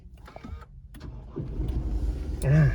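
An Isuzu V-Cross 3.0 Euro 5 pickup with a manual gearbox starts by push button: soft cabin clicks and rustles, then the engine cranks and catches near the end with a rising low rumble.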